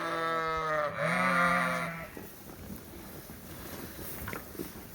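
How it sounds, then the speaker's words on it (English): One sheep lets out a long, loud, close bleat in a barn while the flock is fed alfalfa hay, followed by a softer background of shuffling and rustling. "So we're just feeding all the sheep right now."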